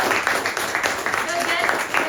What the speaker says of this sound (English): Can we have a round of applause for all the members and all the role players who were here?